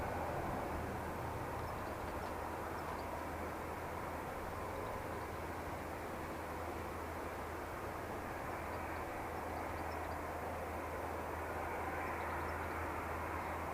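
A six-year-old Airbus A320 at Manchester Airport gives off a steady, distant jet roar, a faint, even broadband rush with a low hum beneath it that holds unchanged throughout.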